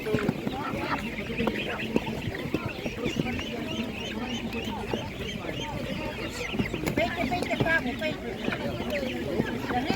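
Ducks and other poultry, including broiler and Czech Dominant chickens, fill a busy poultry market with steady clucking and honking calls, close and continuous, while people talk throughout.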